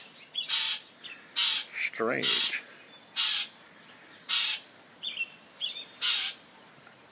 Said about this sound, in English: we're talking a bird that's maybe 4 feet from where I'm sitting, and he starts barking like this about 5 in the morning.